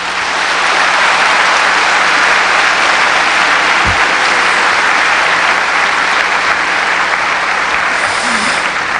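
Sustained, loud applause from a large audience at the Venture Korea 2007 business event after President Roh Moo-hyun's special lecture, a dense continuous roar of clapping filling the whole stretch.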